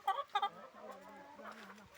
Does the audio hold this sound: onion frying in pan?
no